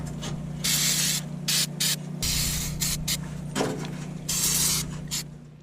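Chain lube sprayed from an aerosol can during winter prep of a Kubota LX2980 snowblower: a series of sharp hissing bursts, some short and some longer, close by over a low steady hum.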